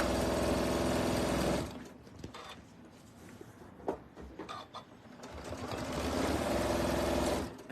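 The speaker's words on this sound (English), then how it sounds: "I'm going to do a reverse." A sewing machine runs in reverse while making a cork fabric roll-up organizer. A loud burst of motor whir gives way to a quieter stretch of small clicks and taps, then the machine runs steadily again.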